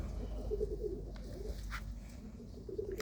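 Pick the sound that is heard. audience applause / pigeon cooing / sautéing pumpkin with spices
pigeon cooing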